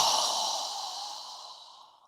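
A single long, deep breath during a yoga breathing exercise, a soft airy exhale that fades out gradually over about two seconds, close and alone.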